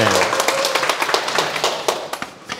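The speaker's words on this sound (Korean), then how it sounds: "박수 한번 치세요" An audience clapping on request during a Korean lecture on habits, a brief scattered round of hand claps that thins out into a few separate claps, with talking over it.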